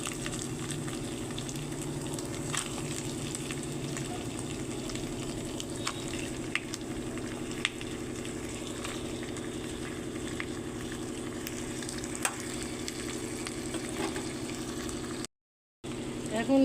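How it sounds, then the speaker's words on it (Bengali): Chicken pieces frying in oil with ginger and garlic for a chicken tehari, giving a steady, close sizzle that runs unbroken, with a brief gap near the end. "এইবারে দিয়ে দিচ্ছি চিকেন।"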